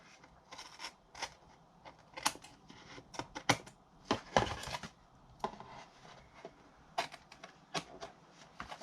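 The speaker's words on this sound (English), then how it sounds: "I'll use my scissors just to trim off the excess" Scissors trim excess ribbon on a handmade file-folder gift bag, giving a run of quiet, irregular snips and clicks up close, some sharper than others, against a faint background with no talking.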